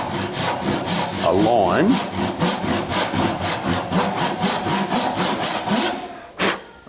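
A hand saw cuts a shallow line across the end of a wooden billet being prepared for a rolling pin on a lathe, giving close, rhythmic rasping back-and-forth strokes. A person talks briefly over the sawing.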